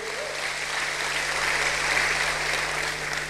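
A church congregation gives sustained, even applause during a sermon, a dense wash of clapping from many hands at moderate loudness, steady for a few seconds with no talk over it.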